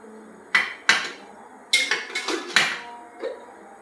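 A pressure cooker lid is fitted and locked shut over dal: five or six sharp metallic clanks and scrapes in quick irregular succession, loud and near, with no talk.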